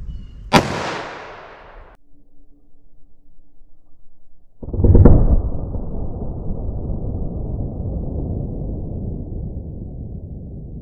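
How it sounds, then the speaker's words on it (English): A .357 Magnum Winchester Silvertip round fired from a short-barrel gun into a ballistic gel block: two loud sharp blasts seconds apart, the second followed by a long rumbling decay. "Let's try the 357 mag, see how that compares to this. All right, 357 mag into the gel block."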